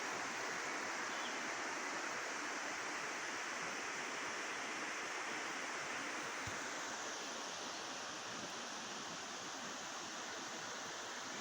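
Water pours over the weir of an old demolished 1750 water mill, making a continuous broadband rush that stays even and fairly loud throughout, with no voices.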